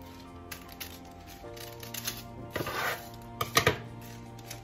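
Scissors snip through folded parchment paper, trimming it into a round to lay over a quiche Lorraine; a few soft, irregular cuts and rustles sound close and quiet, with no voice.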